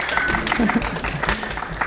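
An audience at a university poetry reading claps briefly, a moderate patter of hands heard underneath ongoing talk.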